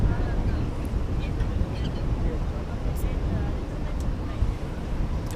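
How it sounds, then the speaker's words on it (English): Strong gusty wind buffets the microphone outdoors at an airport, a loud continuous roar with faint clicks on top and no voices heard. "A little more of a wind today than I was expecting."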